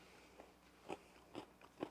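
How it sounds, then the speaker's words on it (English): Three or four sharp crunchy bites into a low-carb, gluten-free pizza crust in quick succession, close and fairly quiet against a faint background hiss. "you hear how crunchy this is?"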